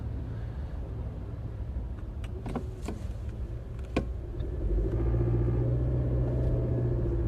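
Low steady engine rumble inside a car moving through heavy traffic, with a few sharp clicks and knocks midway and the road hum swelling louder toward the end; no speech.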